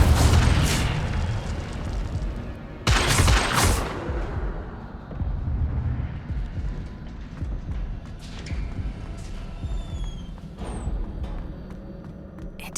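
Spell-casting blasts of the Incendio fire spell in the Hogwarts Legacy video game, loud booming bursts with crackling, whooshing tails over a dense, rumbling game soundscape, followed by fainter scattered effects.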